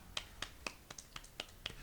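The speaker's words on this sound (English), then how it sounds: "There's the golf clap." A golf clap from a small group in a podcast studio: soft, evenly spaced single claps, about four per second, close and quiet, with no one speaking.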